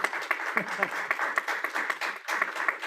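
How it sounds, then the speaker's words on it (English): Applause at a transit agency board of directors meeting, a small group clapping in quick uneven bursts, modest and close, steady for a few seconds. "we'll give him a round of applause"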